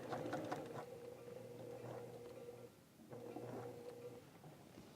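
A sewing machine runs steadily while stitching a skirt waistband, a continuous mechanical hum that briefly pauses near the middle before resuming, close and fairly quiet with no talking.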